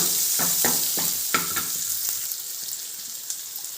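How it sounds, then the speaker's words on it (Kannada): Long-sliced onions fry in a pan with a steady hiss, while a utensil scrapes and stirs in several quick strokes early on before the sizzle settles. "ಈರುಳ್ಳಿ ಈ ಥರ ಉದ್ದಕ್ಕೆ ಸ್ಲೈಸ್ ಮಾಡಿ ಹಾಕಿ ತುಂಬ ಚೆನ್ನಾಗಿರುತ್ತೆ ಬರೋವರೆಗೂ ಫ್ರೈ ಮಾಡ್ಕೊಬೇಕು"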